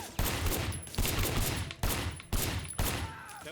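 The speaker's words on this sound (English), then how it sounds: "firing shots from the passenger window" Gunfire shots fired from a car's passenger window: about five loud, sharp, close bursts in quick succession, each trailing into a brief rumbling decay.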